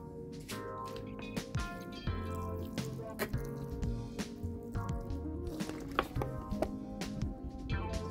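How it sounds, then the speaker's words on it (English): Water poured onto chili seeds in a container of soil, a faint run of soft drips, splashes and squishy trickles scattered over several seconds, close and quiet with no talking. "And then water it again."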